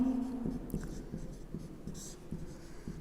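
Pen strokes scratch across paper in short, irregular bursts during a management lecture, fairly close and soft, with a low steady hum beneath.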